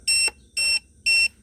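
An RC Airwolf helicopter transmitter, a Carmanon ready-to-fly model, gives three short, evenly spaced high-pitched electronic beeps, close and clear against a quiet background.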